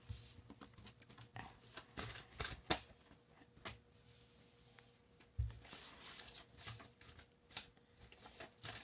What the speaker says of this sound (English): they asked to shuffle one more